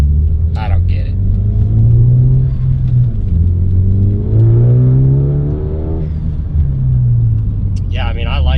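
A Ford Focus ST with a track system catback exhaust revving, a deep loud rumble rising and falling in two swells. Short speech-like bursts are heard at the start and the end.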